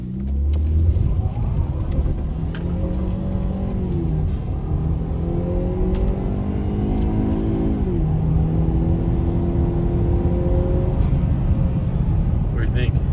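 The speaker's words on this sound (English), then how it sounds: "You can hear the turbo more, and it sounds awesome." A 2015 Ford Fusion EcoBoost fitted with a K&N cold air intake accelerating, its engine and turbo rising in pitch through the gears with a steady loud drone, a shift near the eight-second mark, and people talking over it.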